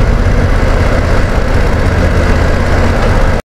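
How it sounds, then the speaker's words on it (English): A BMW F900 GS Rally motorcycle engine with a slightly tappy sound, riding in fourth gear at about 2,000 rpm. It makes a loud, steady low rumble mixed with wind noise, then cuts off abruptly. "Engine's a bit tappy. No worse than a KTM."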